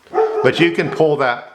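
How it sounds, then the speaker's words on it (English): A dog barks a few times indoors, close and fairly loud, its yips overlapping a person talking steadily in the foreground. "that's my dog"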